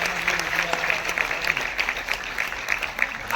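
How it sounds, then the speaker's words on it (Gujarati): An audience at a Gandhi-themed song, dance, music and drama stage event by a Gujarati academy breaks into steady, moderately loud applause for a performer, many hands clapping continuously, with faint crowd murmur underneath. "અને એક તાળી ભાઈ માટે"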